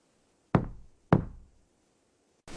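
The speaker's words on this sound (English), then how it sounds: "I knocked again." Two firm knocks on a wooden door, evenly spaced, followed by the start of a third, each ringing briefly before silence.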